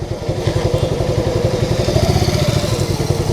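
A one-year-old Suzuki Gixxer SF motorcycle with ABS is ridden on the road, its engine giving a steady, close, pulsing thrum throughout, with no talking.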